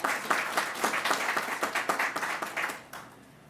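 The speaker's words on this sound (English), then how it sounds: "Let's give them a round of applause." An audience at a government COVID-19 briefing in New York gives a round of applause, a few seconds of lively, fairly close clapping that thins out and tapers off at the end.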